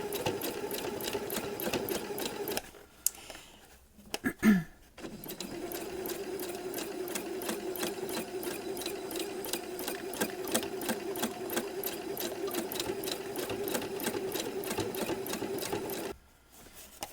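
Sewing machine stitching bobbin work with thick thread for appliqué embellishment, a steady rapid mechanical chatter running continuously, with a brief pause near the start and a stop at the end.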